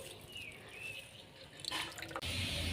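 Water drips and trickles from washed papaya as it is squeezed by hand, soft wet splashes that swell into a louder patter near the end.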